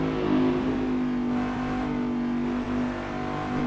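A Cadillac DPi prototype race car in Assetto Corsa drones close and loud, its engine holding a steady, high-pitched tone with a brief dip in revs near the end.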